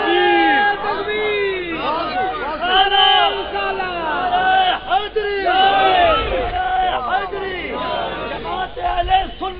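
A large crowd at a religious gathering shouts slogans in unison, a loud, dense roar of many voices rising and falling in repeated waves throughout.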